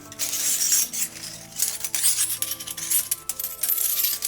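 Close, steady metallic clicking and ratcheting as a clock mainspring is wound down, a bright dense rattle of small clinks running continuously without pause.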